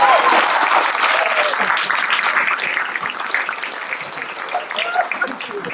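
An audience at a literary poetry reading claps warmly, a full round of applause that starts strong and slowly tapers, with a few voices murmuring underneath.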